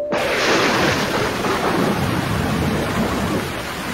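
Heavy rain pours steadily in a dense, loud wash while low thunder rumbles underneath, filling the whole stretch with no voices.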